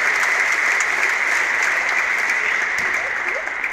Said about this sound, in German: Vielleicht ein dicken Applaus Richtung Sebastian